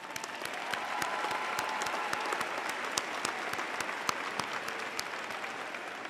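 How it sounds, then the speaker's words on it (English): A commencement audience applauds faculty at the 2018 Thomas Nelson Community College graduation: a broad, sustained clapping from a large crowd with sharper individual claps popping out, steady and moderately distant. "So let's give them a round of"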